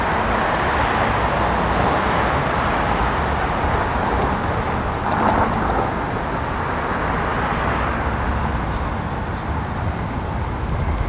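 Steady city car traffic on a street in Midtown Houston, Texas, heard during a walk: a continuous, fairly loud wash of road noise and passing vehicles with no clear pauses.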